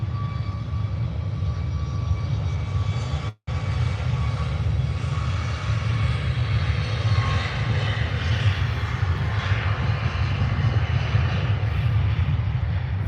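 An airliner departs Birmingham Airport, its jet engines giving a loud, steady roar that swells and rumbles for the whole stretch, with no talking.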